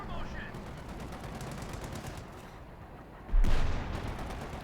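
A wartime street battle in Company of Heroes 2 on the Mirasol map, with a steady mix of distant rifle and machine-gun fire. Near the end, a single loud, close report from an anti-tank gun rings out, and a commentator speaks over it.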